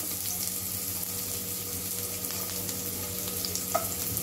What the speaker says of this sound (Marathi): आपण पॅन तापत ठेवला आहे, त्याच्यात तेल घातलेलं आहे आणि आपण हा कांदा थोडासा घालतो आहे